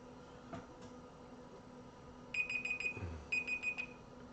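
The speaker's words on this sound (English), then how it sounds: "Oh, that's my timer." A digital timer alarm beeps close by in two quick bursts of four high, even beeps after a moment of quiet room tone, with a soft thump between them and no talking.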